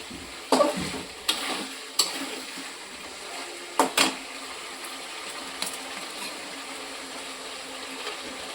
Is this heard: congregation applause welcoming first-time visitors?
no